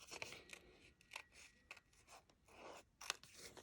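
Scissors fussy-cut paper for a shaker card: faint, close, crisp snips and slicing strokes come in short irregular bursts, quiet and alone with no talking.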